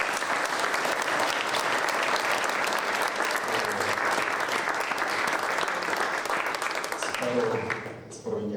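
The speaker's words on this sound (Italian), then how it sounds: "vorrei chiedervi un applauso per i ragazzi che stanno qua" Sustained applause fills a prison hall for the Polisportiva Pallalpiede players at the Due Palazzi jail, a dense crowd of clapping that holds steady for several seconds and then fades.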